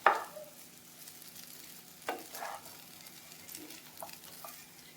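A spoon stirs idli pieces with vegetables in a pan as they fry, giving soft scraping strokes and a few sharper clinks over a faint, low sizzle.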